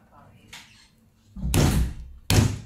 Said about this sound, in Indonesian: Itu kita ketuk dia ni.